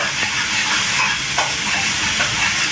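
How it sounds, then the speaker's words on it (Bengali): Tomatoes and onions sizzle and hiss steadily as they are sautéed in a pan for a dal, a continuous close frying noise with faint stirring scrapes. "তো এখানে এখন আমি কষাচ্ছি টমেটো পেঁয়াজ দিয়ে"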